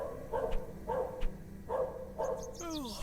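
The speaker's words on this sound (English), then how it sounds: "The dog you're hearing right now sometimes sounds like my dog" A dog in The Excavation of Hob's Barrow adventure game barks four times at an even, unhurried pace, moderately close, and a short whistling, bird-like sound follows at the end.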